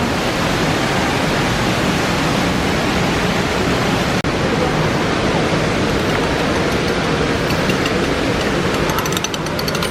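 A hotel waterfall roars as a dense, steady rush of falling water, loud and close throughout with no pauses.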